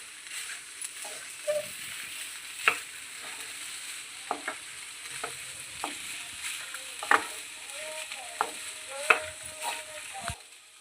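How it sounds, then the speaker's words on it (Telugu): Soaked jowar being stirred in a pan with a spoon, soft scraping and sizzling under a faint background hiss, marked by a few sharp clinks of the spoon against the pan spaced irregularly throughout. "మనం ముందుగా సిద్ధం చేసుకున్న ఈ జొన్నలను అయితే ఇందులో వేసుకుందాం వీటిని కలుపుకోవాలి కలుపుకున్నామండి"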